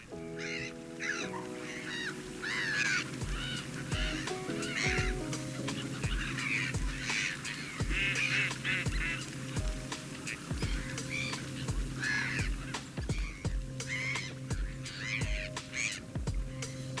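A Canada goose honking repeatedly at frozen Arundel Wetlands, a steady series of loud, close calls over other birds and a constant background hum.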